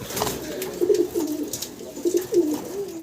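Pigeons at a pigeon farm coo in repeated low, throaty phrases close by, several rolling calls in a row over a faint background, with no speech.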